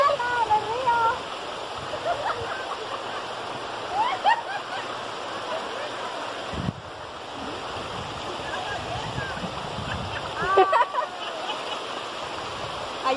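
River water at a swimming spot in Cempoala, Veracruz, flows and splashes steadily nearby, with scattered splashes and broadband wash under intermittent voices and chatter.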